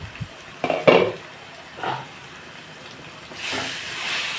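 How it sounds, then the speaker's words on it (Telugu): Ivy gourd curry cooking in a pan, with a few close clinks and scrapes of a utensil against the pan over a soft background hiss, then a louder steamy sizzle rising near the end. "ఇదిగోండి దొండకాయ మగ్గుతుంది బాగా"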